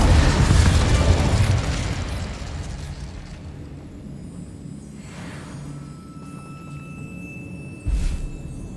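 A fiery burst from the Incendio spell in Hogwarts Legacy roars loudly at the start and tails off over about two seconds, with a short thump returning near the end.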